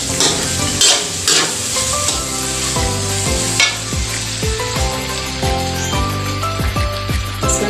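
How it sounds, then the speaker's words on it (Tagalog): Loud, close stir-frying of ground meat coated in oyster sauce for sinangag, a constant sizzle with a steady ringing tonal backdrop that sounds like music playing alongside. "Haluin lang po natin. Para po lumasa yung oyster sauce sa ating giniling."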